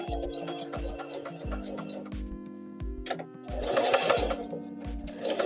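A sewing machine runs a seam in bursts, briefly reversing to lock the end of the stitch, its steady mechanical whirring and ticking close and loud with a pause partway through.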